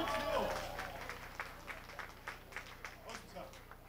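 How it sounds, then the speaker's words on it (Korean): An audience at an outdoor band concert applauds, giving soft, rhythmic, moderately distant clapping beneath a speaker's voice. "박수 한번 주세요."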